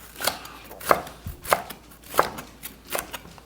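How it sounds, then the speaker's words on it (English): A knife chops a seeded pepper on a cutting board, five crisp, evenly spaced strikes at an unhurried steady rhythm, close and clear with no talking. "slice them and dice them."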